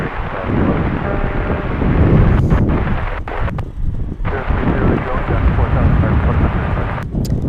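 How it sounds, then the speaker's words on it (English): Boeing 747-8 airliner taking the runway at Dallas Fort Worth airport at sunrise, a loud broad rumbling roar of jet engines with wind buffeting the microphone, steady throughout with a few brief clicks. "Looks like our 747-800 is taking the runway"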